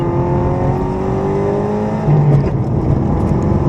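A 300hp Subaru rally car engine revs and accelerates steadily from inside the vehicle, a loud continuous drone rising in pitch as it pulls through third gear.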